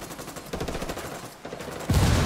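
Squad gunfire in Ghost Recon Wildlands, loud rapid automatic bursts crackling in quick succession, swelling into a heavier barrage at the end.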